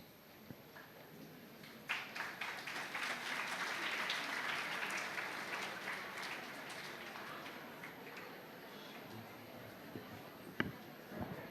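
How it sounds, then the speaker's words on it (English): Students in a hall at an interactive session clap before the principal's welcome address, a diffuse, moderately distant patter of applause that swells, then thins into scattered claps, with faint voices underneath. "students, I think you don't need to clap for a welcome address"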